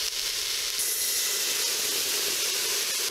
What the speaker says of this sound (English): we're gonna deglaze that pan with just a little bit of rye whiskey